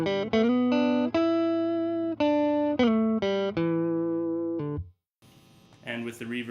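Electric guitar played dry through a tweed-style tube amp with the bridge pickup, a short run of clean sustained notes and chords that ring out, stop briefly, then resume with a scratchier strum.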